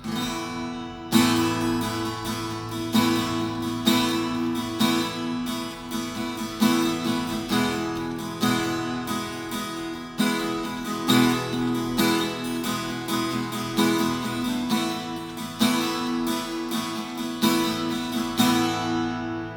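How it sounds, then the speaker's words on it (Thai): A Takla M-102 acoustic guitar strumming full chords in a steady rhythm, close and bright with a warm, thick low end, ringing on without any voices. "เดี๋ยวเป็นตีคอร์ดบ้างนะครับว่าเสียงจะประมาณไหนนะครับ"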